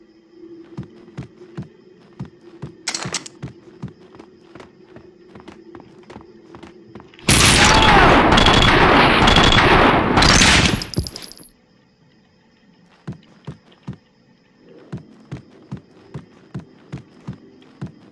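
Gunfire in the video game Max Payne 2: a steady series of sharp single shots over a low hum, broken by a loud roaring burst of sustained noise midway, then more spaced shots resume.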